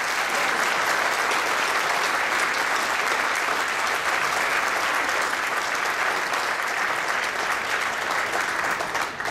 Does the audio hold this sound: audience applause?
yes